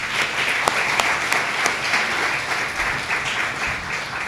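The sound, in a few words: audience applause for outgoing president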